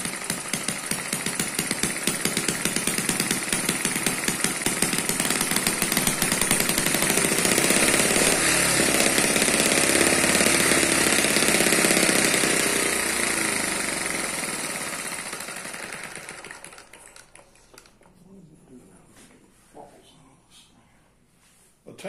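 An Eachine ET8 four-cycle model engine without a governor, its speed set only by the carburetor, runs with a loud, steady rapid chatter for about fifteen seconds before winding down and stopping, leaving faint ticks.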